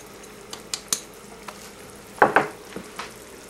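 Cheese being stirred into a tomato sauce in a pot, with soft wet stirring and a gentle sizzle broken by a few clinks and a pair of louder scrapes of a spoon against the pan.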